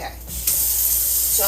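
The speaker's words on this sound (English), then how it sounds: "so I'm just going to rinse the can" Tap water runs into an empty bean can being rinsed, a loud, close, steady gushing spray that swells after a brief quieter start.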